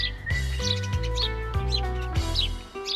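A sparrow's chirping, shown in a lesson about birds for young children: short, bright tweets recur through the clip over a steady tonal musical backing, with no speech.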